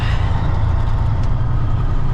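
The engine of a 1981 Peterbilt 379 truck idles with a low, steady rumble, close and continuous, with no talking.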